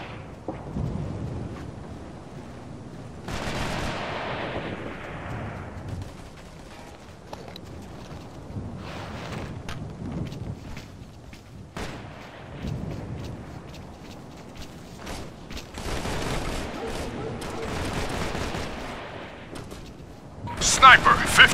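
Heavy gunfire and explosions in Operation Flashpoint: Red River, bursts of rifle shots and booming blasts spread across the scene, with soldiers shouting throughout.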